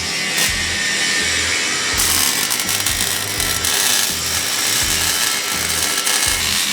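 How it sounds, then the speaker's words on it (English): A power tool cuts through a steel suspension bracket on a Jeep JKU during a 3-link kit install in a garage, a loud continuous grinding whine running steadily with no talk. "I'll start cutting this bracket off, get that one in."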